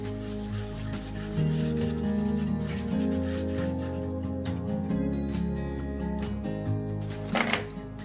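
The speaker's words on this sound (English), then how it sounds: "I sand the edges as well as the glue joints in between." Sanding the edges and glue joints of wooden tumbling tower blocks by hand, a steady close rubbing and scraping over a persistent background hum.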